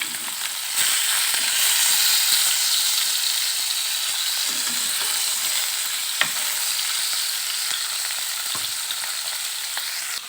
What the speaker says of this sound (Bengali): এখানে আমার মাছগুলো ভাজা হচ্ছে, আমি এবার মাছগুলো উল্টিয়ে দেব।